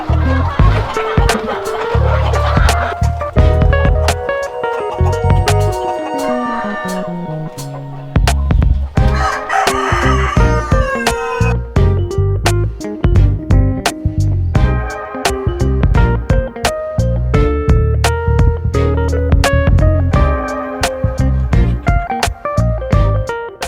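Free-range kampung chickens of an improved Balitbangtan breed fill a farmyard with loud, continuous clucking and drawn-out crowing, layered densely throughout.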